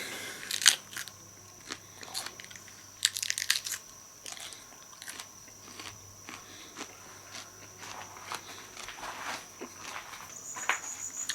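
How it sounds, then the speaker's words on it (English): Crunchy bites and chewing of a Rocotillo pepper (Capsicum annuum) come as irregular sharp crackles spread across the stretch, up close and fairly quiet, with no talk. "Let me take another bite."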